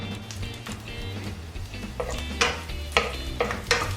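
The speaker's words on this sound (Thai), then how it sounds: "เดี๋ยวเจียวกระเทียมให้หอมสักครู่นะครับ" Garlic fries in vegetable oil in a pan for a squid stir-fry, a low steady sizzle under repeated spatula clinks and scrapes that grow more pronounced toward the end.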